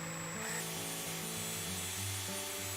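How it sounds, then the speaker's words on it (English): A power drill bores a hole through the middle of a plastic hummingbird feeder flower, giving a steady whirring, grinding tone with shifting pitch that runs close and continuous throughout, with no talking. "And drill a hole through the middle."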